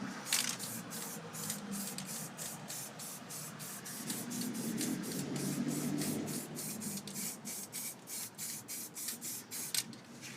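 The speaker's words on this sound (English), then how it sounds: "I'm just gonna hit this a few times with the spray paint." A spray paint can hisses over a cut stencil in a series of short, close bursts, with one longer, fuller spray in the middle and quick pulsing hits toward the end.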